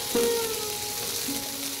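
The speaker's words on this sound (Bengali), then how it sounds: "এবার এই ফোড়নের মধ্যে দিয়ে দিচ্ছি আগে থেকে খোসা ছাড়িয়ে রাখা আমড়াগুলো 1 মিনিট মতো ভেজে নিচ্ছি।" Peeled hog plums dropped into hot tempered oil give a steady, moderate frying sizzle for about two seconds, with a brief louder burst at the start and a faint tonal squeak from the pan.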